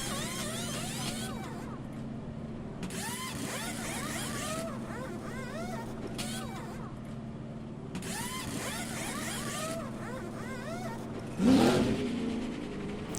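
NASCAR stock cars in NASCAR Racing 2003 racing off pit road at a Minnesota track, several engines revving and shifting up in repeated rising whines as cars pass, with a loud surge near the end.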